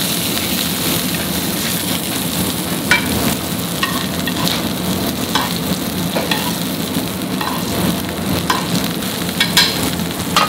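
Langoustines fry in oil in a pan in a Michelin-starred restaurant kitchen in Heemstede, giving a steady, close, crackling sizzle with bursts of spitting and stirring throughout.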